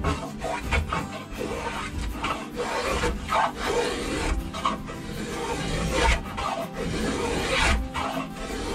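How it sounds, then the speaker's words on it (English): A spokeshave carves a wooden wind turbine blade in repeated rasping, scraping strokes, close up and fairly soft, in an uneven rhythm of roughly a dozen passes. "So I'm going to be using a spoke shave."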